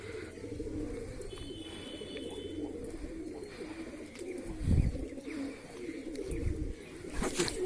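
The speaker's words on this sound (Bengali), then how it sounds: "বন্ধুরা কবুতরটা আবার ছেড়ে গেছে" Low, rolling coos from a Nazra pigeon repeat close by, broken by a few thumps and rustles of handling.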